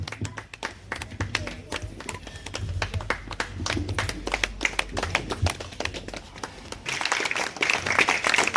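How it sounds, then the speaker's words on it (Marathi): Audience applause at a joint Marathi book launch ceremony by Rohini Prakashan, with dense rhythmic clapping from many hands sustained for several seconds, close and lively, and voices murmuring underneath as the claps swell near the end. "त्या थोड्याच वेळात आपल्यासोबत जोरदार टाळ्या झाल्या पाहिजेत."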